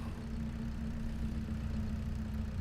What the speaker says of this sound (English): The engine is still running.